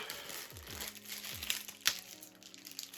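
A plastic bag crinkles and rustles in bursts while a lost parcel is unwrapped, close and fairly quiet, with a few sharper crackles between softer handling noises.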